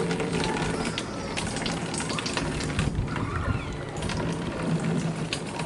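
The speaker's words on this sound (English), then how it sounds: "I can hear it bubbling" Air bubbling through water in a homemade bead bio filter, a dense continuous fizzing and gurgling close up, steady throughout with small pops and splashes.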